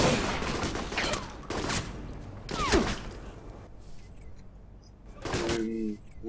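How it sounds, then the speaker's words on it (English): A charged shotgun fires in Alpha Protocol, several sharp gunshot cracks echoing over busy game noise as someone talks over the action. "I'm going to knock down the machine gunner by charging the shot beforehand this time."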